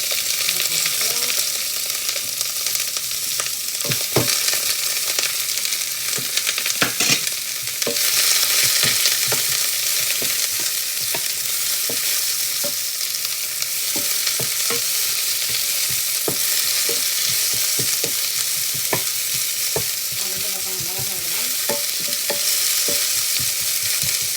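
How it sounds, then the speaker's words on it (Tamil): Dried red chillies and onions frying in hot oil for sundal, a loud continuous sizzle and crackle with scattered clicks of stirring over roughly twenty-four seconds, no talking. "செட்டை மிளகாயை போடுறோம் செட்டை மிளகாயோட சேர்த்து வெங்காயம் கூட போட்டால் ருசியாக இருக்கும்"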